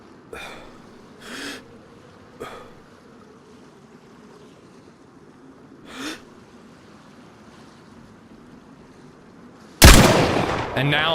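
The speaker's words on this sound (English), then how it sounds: "I don't understand where these shots are going." Gunshots in DayZ on the Chernarus map: several distant cracks spaced seconds apart over a quiet windy background, then a sudden loud close blast of noise near the end.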